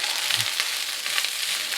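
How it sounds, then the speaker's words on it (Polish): Egg fried rice sizzles steadily in a hot pan, a continuous crackling hiss with small pops, close and fairly loud. "Smażymy to dalej"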